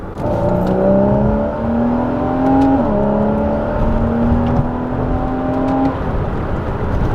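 A 2013 Porsche 981 Boxster, base model, accelerating hard, its engine note climbing steadily through the revs with a brief dip at a gear change before pulling up again, loud and close for the whole stretch.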